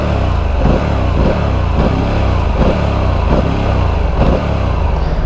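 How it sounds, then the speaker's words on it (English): A Harley-Davidson Pan America 1250 Special motorcycle idles loudly nearby and its exhaust is blipped in a steady series of short revs, about one per second, with no talking. "let's have a little listen to the 1250 special exhaust"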